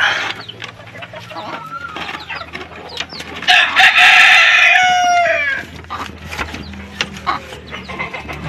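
White junglefowl rooster crowing loudly and close in the middle, with scattered clucks and chicken calls before and after over outdoor background noise.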